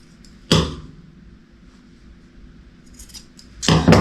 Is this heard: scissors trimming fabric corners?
yes